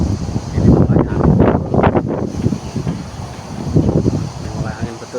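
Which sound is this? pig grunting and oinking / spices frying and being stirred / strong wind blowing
strong wind blowing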